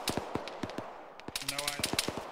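Gunfire in the ArmA 3 military game sounds as a string of sharp cracks and short bursts, some distant and some close, while a radio-style voice speaks briefly in the middle.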